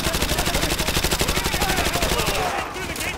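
Rapid automatic gunfire in the video game Call of Duty: Modern Warfare 2 Remastered, a dense string of sharp, evenly spaced bursts that continues almost without pause before briefly thinning out near the end.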